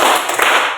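Dense, loud group clapping rattles on continuously for under a second as many hands strike together in a quick clap pattern.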